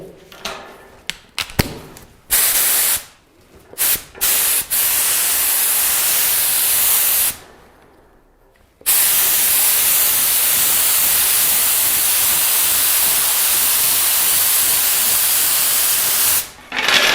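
Long bursts of steady, loud hissing spray from an Intertool Storm spray gun applying clear coat, broken by short pauses and clicks between passes, with a longer gap partway through; no voices.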